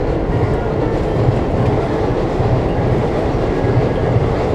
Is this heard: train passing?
yes